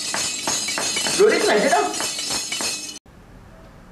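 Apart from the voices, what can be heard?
balafon being played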